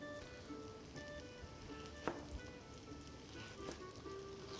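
Onion fries in hot oil in a pan, a soft continuous crackling sizzle with scattered faint pops and a couple of brief clinks, quiet and close.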